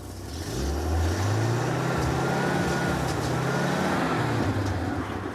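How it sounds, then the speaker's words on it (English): A car engine fitted with a one-barrel Monojet carburetor revs up steadily right after a tune-up, a loud, close, sustained drone that climbs and holds through the clip with no talking. "All right, rev her up."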